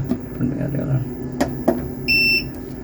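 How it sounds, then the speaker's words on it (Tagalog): An inverter sounds its alarm after the battery has charged: a steady electronic beep, loud and close, rising after a few sharp clicks and knocks, with faint talk in the background. "nag-charge ang battery, nag-alarm siya"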